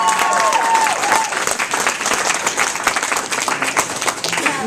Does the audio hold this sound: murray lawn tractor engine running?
no